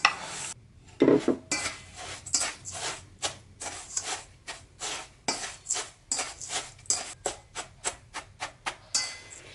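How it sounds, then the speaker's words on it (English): Crust crumbs worked together with unsalted butter in a bowl, a steady series of close scraping and tapping strokes from a utensil against the bowl, rhythmic and fairly loud with no talking. "And keep mixing this until this forms a crust."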